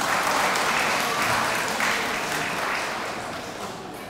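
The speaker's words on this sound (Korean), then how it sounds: "다시 한번 큰 박수 부탁드립니다" Sustained applause from the guests fills a wedding hall after a congratulatory song, a dense steady clapping that slowly tapers off toward the end.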